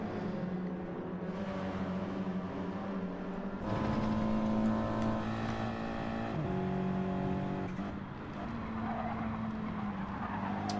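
Several race cars in a touring car racing video game drive close together, engines droning and shifting pitch as they rev and change gear, with a brief tire squeal amid steady motor noise.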